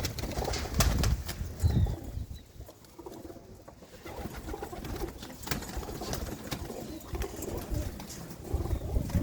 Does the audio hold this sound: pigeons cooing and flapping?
yes